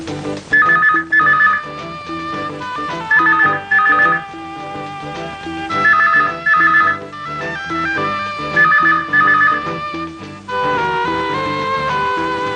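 A telephone rings with a repeating electronic melodic ringtone, loud and close, in regular bursts with short pauses and no voices over it.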